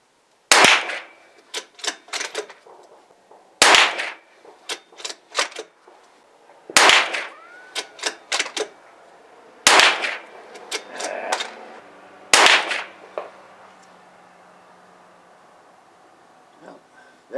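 .22 rifle shots with Blazer ammunition crack out singly at intervals of a few seconds, five sharp reports in all. Each one is followed by faint clicks and handling noises from working the rifle between shots.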